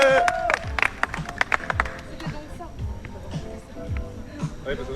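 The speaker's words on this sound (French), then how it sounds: "Et on peut l'applaudir" A small crowd applauds a cyclist's one-legged, no-handed hour distance attempt, a brief flurry of claps at the start with people talking over it, then scattered sounds and chatter.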